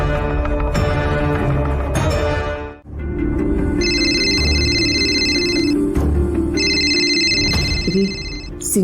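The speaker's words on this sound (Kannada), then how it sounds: "ಸಿಂಚನ್ನ ಫೋನ್ ಮಾಡ್ತಿದ್ದಾನೆ." A mobile phone rings with a repeating electronic tone in two bursts, set against a music score in a domestic drama scene.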